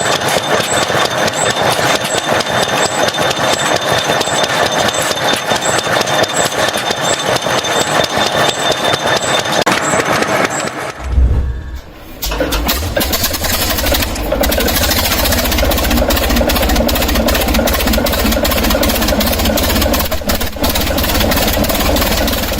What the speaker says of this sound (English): Roots Group's 1948 quest to cram a commercial diesel beneath a flat-front truck cab